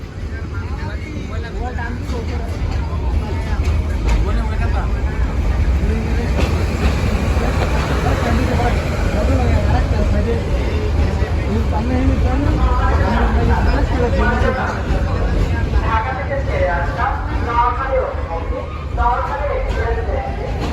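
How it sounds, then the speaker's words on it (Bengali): A busy airport railway station with a train present: a constant low rumble of rail traffic under a crowd's babble, with several voices talking nearby. "বিমানবন্দর রেলওয়ে স্টেশন"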